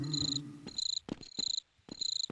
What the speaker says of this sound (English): It's like a single 1 second loop of a cricket constantly.